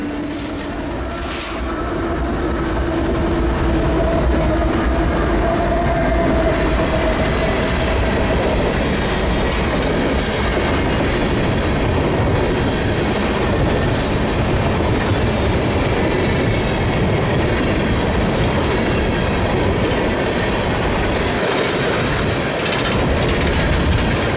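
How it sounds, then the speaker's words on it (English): A long coal freight train with KCS, BNSF and UP locomotives rolls past close by, a loud steady rumble with rhythmic clickety-clack of wheels over rail joints and occasional faint squeals. "This is one of the several Texas utility coal trains that can be seen along the route."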